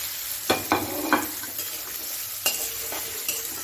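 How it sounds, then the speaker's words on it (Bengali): Chopped onions fry in a pan with a steady low sizzle, broken by a few crisp scraping clatters as a utensil stirs them against the metal. "এবার পেঁয়াজটা একটু ভাজা ভাজা করবো"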